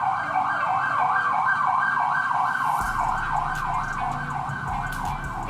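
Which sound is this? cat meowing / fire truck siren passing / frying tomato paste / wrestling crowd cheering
fire truck siren passing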